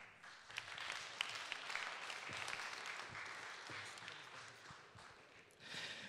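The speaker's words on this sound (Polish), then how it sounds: "Ogromne brawa!" Sustained audience applause at a ceremony honouring a foundation's board, a steady wash of many hands clapping at moderate distance with a brief louder burst near the end.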